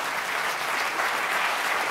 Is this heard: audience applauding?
yes